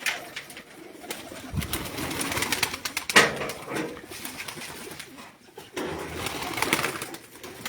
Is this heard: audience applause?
no